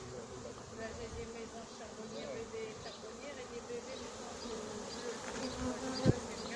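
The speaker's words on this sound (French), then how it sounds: "La totalité de l'essaim est dedans." A honeybee swarm inside a closed cardboard box makes a continuous, even buzzing hum, fairly close, with a faint background drone and a brief knock near the end.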